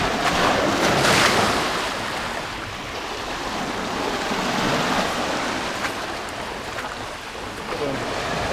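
Sea waves wash against the shore at Yalta, a broad continuous surf noise that swells and eases, heard close with wind buffeting the microphone.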